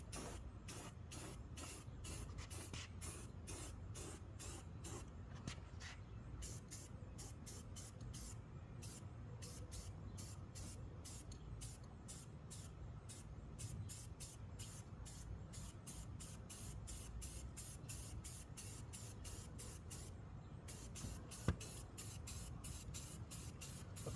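Spray can laying a top coat of paint over rust-repaired welds, a quiet run of short, evenly spaced hissing bursts with brief pauses between them and no talk.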